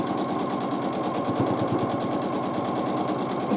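Domestic sewing machine free-motion quilting large pebble shapes through fluffy wool batting, a steady close whirring hum with fast rhythmic needle chatter running throughout.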